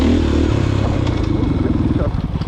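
A trail motorcycle engine idling and burbling close by on a forest loop, a low pulsing rumble under voices talking over it.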